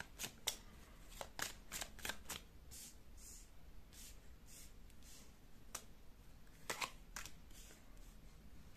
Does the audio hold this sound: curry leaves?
no